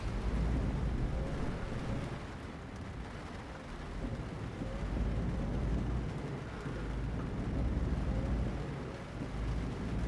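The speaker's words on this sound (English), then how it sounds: "Rainy one minute and stormy the next." Steady rain pours down with low rumbling thunder rolling underneath in Euro Truck Simulator 2, a continuous dense wash of sound with no voices.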